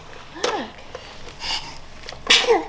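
A person sneezes indoors on an Easter morning at home: a short sharp sneeze, a softer sniffing breath, then a second louder sneeze, all close to the listener with no talk over them.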